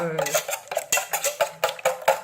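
A utensil scrapes and clinks rhythmically against a bowl, with quick repeated strokes of coconut cake batter being mixed close by.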